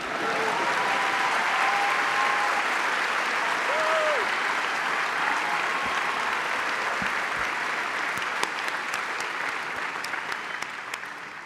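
Sustained applause from a large audience at a university graduate hooding and commencement ceremony, steady and loud throughout, gradually tapering off toward the end.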